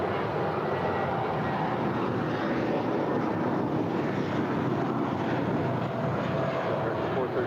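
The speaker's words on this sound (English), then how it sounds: "That is United Airlines Flight 319 departing to Puerto Vallarta. It's an A320." An Airbus A320 airliner taking off at LAX, a steady, loud jet engine roar mixed with wind rush, continuous and unbroken from start to finish, close to the microphone.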